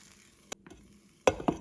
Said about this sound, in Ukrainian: Тепер вони з двох сторін обсмажаться і накриваю кришкою.